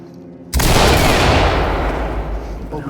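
A flashbang grenade detonates in the tactical shooter game Ready or Not, a sudden loud blast that booms into a long, roaring ring and slowly fades over a few seconds.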